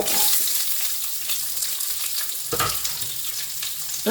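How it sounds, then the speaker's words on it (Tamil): Two big chopped onions sizzle and fry in a pan with lightly roasted fenugreek, a steady broadband crackle with occasional stirring scrapes, loud and close, no voices. "வெங்காயத்தை நல்லா வதக்கி விட்டுக்கலாம்"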